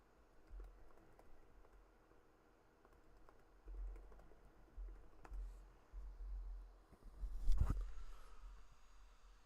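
Computer keyboard typing in quick, irregular clusters of soft clicks, close and fairly quiet, with a louder thump near the end.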